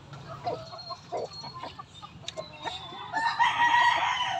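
Chickens cluck and squawk in a poultry coop, with short clucks and calls scattered across the clip. The birds are fairly close and a bit busier toward the end, with no speech.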